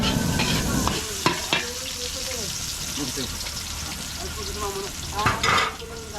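Garlic and onion sizzle steadily while sautéing in a pan as a cordon bleu is cooked for catering, with stirring and utensil clinks over the frying and a person talking at moments.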